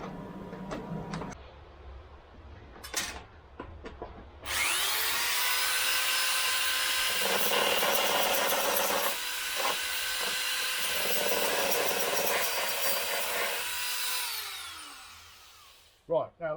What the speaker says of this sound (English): I think what I might do is just put the belt sander over it on the outside